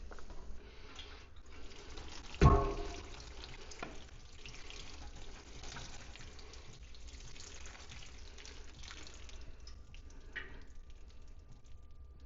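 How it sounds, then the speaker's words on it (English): Microgreens trays being top watered, a steady low splash and trickle of water running on and on at moderate level, with one sharp knock near the start. "They could use a little bit of water, so we're going to take them now and we're going to top water them."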